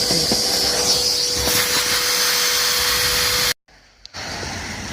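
An Ozito 18V cordless vacuum cleaner runs while sucking up wet twigs, giving a loud, steady hissing whine with a faint tonal hum. It cuts out abruptly near the end, then starts again.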